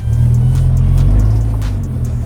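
A Lamborghini in sport mode on an icy road gives a loud, close, steady low engine drone with a slight swell and easing, continuous throughout.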